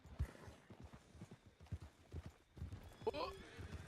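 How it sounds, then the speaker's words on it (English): A horse in a western roleplay video game gallops away, giving a quick run of soft, rhythmic hoof clops that are faint and close, ending with a short whinny-like sound. "I want that horse. He took off really fast."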